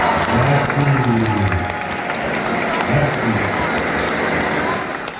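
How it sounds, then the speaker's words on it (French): Wedding guests applaud in a crowded room, continuous dense clapping with voices and cheering mixed in, loud and close, holding steady throughout. "applaudissements"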